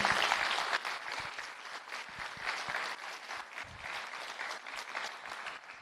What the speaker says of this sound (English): Let's give them a round of applause for putting it together.